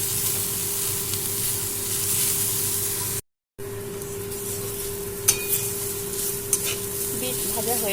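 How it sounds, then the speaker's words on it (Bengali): Beetroot pieces frying in oil with salt and turmeric give a steady, close sizzle, with occasional stirring clinks against the pan and a brief dropout midway. "দিয়ে দেবো লবণ, হলুদ, ভালো করে ভেজে নেব"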